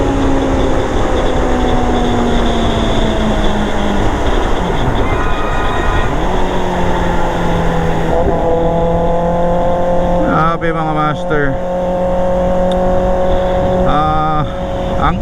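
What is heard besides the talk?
Kawasaki ZX6R motorcycle revving with SC Project exhaust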